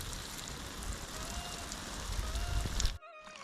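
Water sprinkled gently from a watering can onto onion seedlings in village garden beds, a steady close hiss of spray that stops suddenly near the end.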